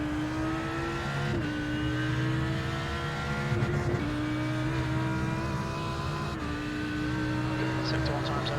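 A race car accelerates through a practice session for the 24 Hours of Nürburgring, its engine note climbing through several gear changes with a brief lift, heard steadily beneath a voice talking.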